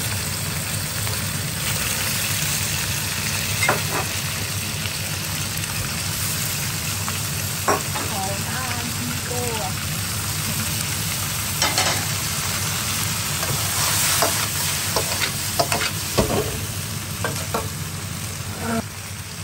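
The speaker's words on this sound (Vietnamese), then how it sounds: "Tiếp theo là mình sẽ đổ đồ đã chiên xong vào để xào" Already-fried mixed ingredients are stir-fried in a big pan, making a steady loud sizzle with scraping spatula strokes and clanks throughout and no talking.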